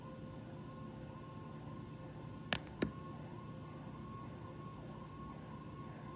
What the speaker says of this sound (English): I'm going to wait till these sirens pass.